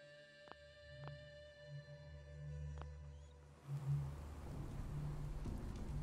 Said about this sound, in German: So ist der Regen nur dezent da.